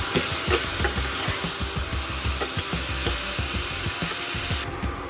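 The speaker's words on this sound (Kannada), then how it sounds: "ಇದು ಚೆನ್ನಾಗಿ ಫ್ರೈ ಆಗಬೇಕು." Tomatoes fry in a pan with cumin for a lentil rasam, giving a steady loud sizzle with repeated scraping and stirring strokes in an even rhythm, no one talking.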